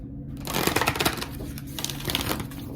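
A deck of tarot cards riffles and flutters in a quick burst of crisp clicks, close by, with a few softer shuffling strokes after.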